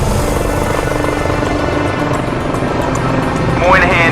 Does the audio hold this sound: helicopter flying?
yes